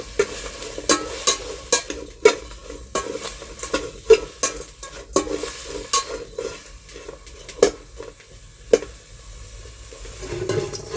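Food frying in a pan while being stirred with a utensil: a continuous sizzle broken by repeated sharp scrapes and clinks of metal on the pan, close and fairly loud.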